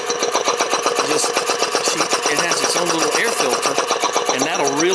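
A 1940 car engine runs with a rapid, steady mechanical clatter that persists throughout, while someone talks over it.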